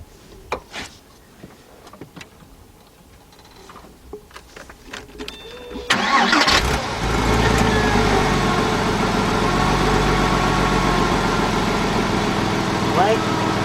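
A 1999 Porsche Boxster with a hard brake pedal cranks and fires up about six seconds in, after quiet clicks and movement, then settles into a steady close idle that runs on to the end.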